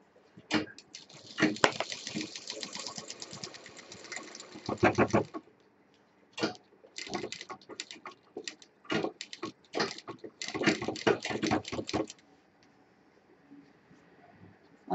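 A sewing machine stitches a triple-zip shoulder bag in irregular bursts of rapid ticking, a long run followed by several shorter spurts with quiet gaps, close and fairly clear.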